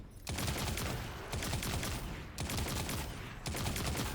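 Rapid overlapping gunfire from many snipers in a video game, a dense loud barrage in bursts with brief gaps, no talking.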